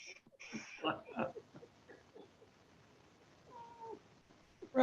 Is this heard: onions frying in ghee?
no